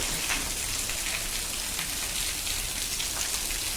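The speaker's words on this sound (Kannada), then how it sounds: "ನೀರೆಲ್ಲ ದಬ ದಬ ದಬ ಬೀಳ್ತಿದ್ದಾವೆ ಅಲ್ವಾ" Steady rainwater pours and patters onto hard steps, a dense continuous splashing with no voices, close and even throughout.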